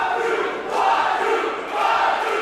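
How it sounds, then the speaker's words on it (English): A wrestling crowd at a BPW Snow Day independent show cheers and roars for Jacob Fatu, a steady loud wash of voices that swells twice, with no clear talk on top. "Crowd getting behind Jacob Fatu here in the battlefield."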